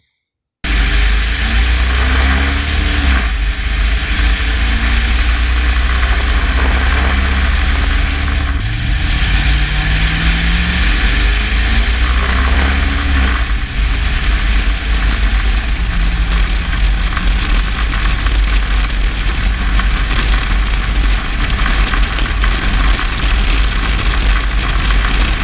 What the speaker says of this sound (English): just kind of shifting through the gears and seeing how everything acts and operates at highway speeds